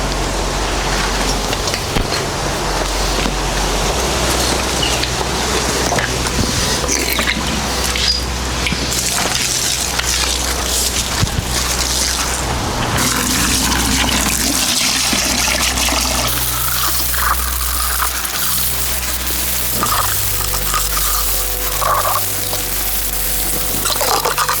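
Steady, continuous running water while tools are washed during wall repairs and shed cleaning. The broad, rain-like gushing holds at an even level throughout, with no talking.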